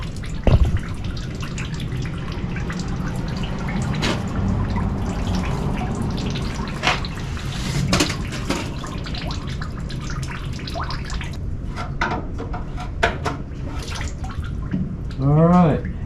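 Fluid trickles and drips steadily from an old tractor into a drain pan, a continuous watery splatter with a few sharper drips, closing with a brief gurgling burst.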